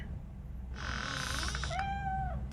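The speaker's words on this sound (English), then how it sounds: "There he is. Meow." A cat meows in the RoboCop: Rogue City video game, two drawn-out mewing calls in quick succession, close and clear over a low game-ambience hum.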